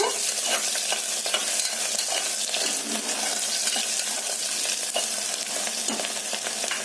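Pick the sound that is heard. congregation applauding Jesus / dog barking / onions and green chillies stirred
onions and green chillies stirred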